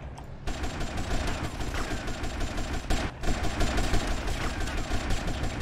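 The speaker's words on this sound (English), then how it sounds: "Shooting all these government agents in the face." Gunfire in GTA Vice City aimed at government agents: dense, loud bursts of rapid shots and fusillades, with a brief lull near the start and another around the three-second mark.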